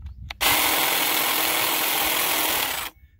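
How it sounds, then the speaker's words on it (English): A hedge trimmer runs close and loud in a yard, a dense buzzing motor roar that starts abruptly, holds steady for about two and a half seconds, then cuts off. "It's just a hedge trimmer."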